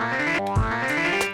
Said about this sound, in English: so let's dial some overdrive in.